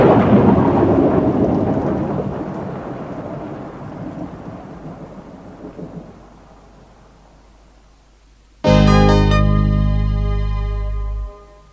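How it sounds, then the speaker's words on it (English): Steady rain with rolling thunder fades over several seconds, followed by a sudden loud tonal, buzzing sound that holds for about three seconds then cuts off. "It was 10 o'clock, and it was raining."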